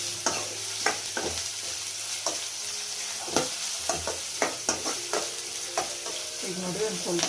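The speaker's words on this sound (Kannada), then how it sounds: "ಇದನ್ನು ಹೈ ಫ್ಲೇಮಲ್ಲೇ ಇಟ್ಕೊಂಡು ಒಂದು ಸ್ವಲ್ಪ ಫ್ರೈ ಮಾಡಿದ್ರೆ" Paneer fried rice ingredients stir-fried on high flame in a pan, with a steady loud sizzle and repeated scraping, clacking strokes of a spatula against the metal, no talking.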